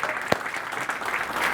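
An audience applauds Keith Cunningham with dense, steady clapping that fills the whole moment and includes one sharper clap close by.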